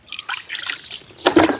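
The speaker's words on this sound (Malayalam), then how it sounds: "നീറ്റ് ഇതിലേക്ക് വെള്ളം തെളിക്കും." Water is sprinkled by hand onto a heap of quicklime, giving soft splashes and trickling patters in short bursts, with a heavier splash near the end; fairly quiet and close.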